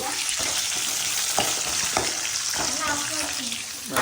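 Garlic, green chillies and onion fry in a pan with a steady, close hiss of sizzling oil, broken by a few soft clicks and scrapes as the pan is stirred.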